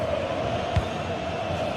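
Stadium crowd in a football video game roaring in a continuous, loud wash of cheering with one brief thump partway through.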